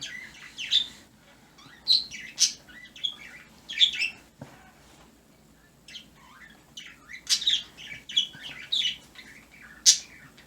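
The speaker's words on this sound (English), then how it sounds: "I think the birds do like the fact that it's warmed up a little bit now." Birds outdoors chirp and call in short, bright bursts from a moderate distance, repeated irregularly over a quiet background on a mild day.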